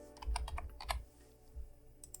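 Computer keyboard keys clicking in quick irregular bursts, close and fairly soft, with a short pause midway before a final few taps.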